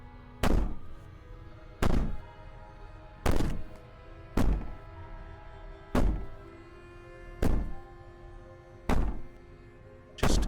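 Someone bangs on a wall in the Slay the Princess game, making heavy, booming thuds that repeat at a slow, steady pace about every one and a half seconds over a low, moody background.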